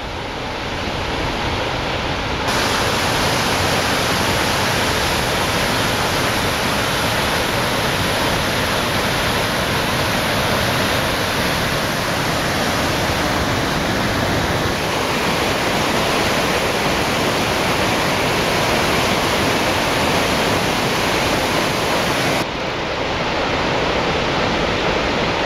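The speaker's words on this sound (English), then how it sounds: "Big waterfall number 1 on the way to Kinsarvik" Large waterfall on the trail to Kinsarvik in Hardangervidda, Norway, a loud, constant roar of falling water heard up close, unbroken throughout with no voices.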